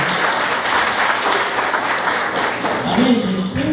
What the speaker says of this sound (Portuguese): A Luane, com a Luane, vamos dar um aplauso também a Jesus, a Luane.